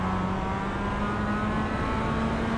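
An opponent's race car engine in the iRacing sim drones at steady pitch in the Mazda production car race at Oulton Park, a sustained whirring hum running without a break through the short stretch.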